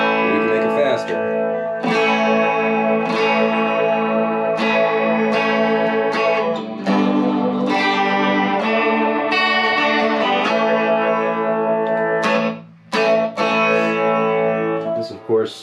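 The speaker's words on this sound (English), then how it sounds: "we head over here to the Rotary, which is going to sound like a spinning wheel." An electric guitar runs through a rotary effect pedal, and its sustained chords carry a swirling, spinning-wheel wobble. Chords are struck every couple of seconds and ring out loud, with a short break near the end.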